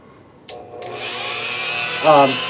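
A multi-speed Dremel rotary tool whirs up to speed after a couple of clicks, holding a steady high-pitched whine that rises briefly in pitch near the end.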